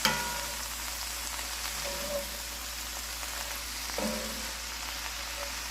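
Cabbage cooking in a pan for Southern fried cabbage, with a continuous even sizzle and crackle close by and a couple of soft stirring knocks, no talking.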